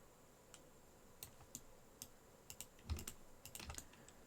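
Quiet, scattered clicks of a computer keyboard and mouse while selecting vertices in Blender, arriving singly and in short clusters of two or three, soft and close with no talking.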